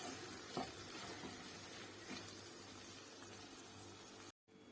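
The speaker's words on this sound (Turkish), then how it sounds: "Ve güzelce karıştırarak biraz daha pişiriyoruz." A low, steady sizzle of a chicken cream sauce with faint stirring in a pan, quiet and continuous, briefly cutting out near the end.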